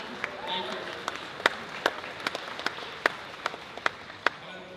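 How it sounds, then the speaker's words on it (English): A convention audience at BronyCon 2019 gives sparse, scattered hand claps, a dozen or so distinct sharp claps spread over a few seconds, with voices in the background. "Yes, round of applause for Superhero Girls,"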